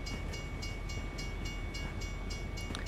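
In American Truck Simulator, a train rolls past at steady speed, with a regular clickety-clack of wheels over rail joints beneath a continuous rumble, moderately distant and without voices.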